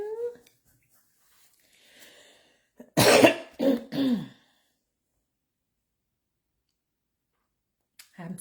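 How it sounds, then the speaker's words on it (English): A short cluster of two or three harsh coughs breaks an otherwise quiet stretch, close and fairly loud, with faint breathing before and after. "I'm still battling with this cough."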